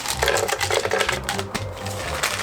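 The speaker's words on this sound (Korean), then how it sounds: "얼음을 넣고 같이 한번 갈아보도록 하겠습니다" A blender crushes ice with two hallabong oranges to make a smoothie. The motor whirs loudly and steadily, with rough, grinding chatter from the ice, and no one speaks.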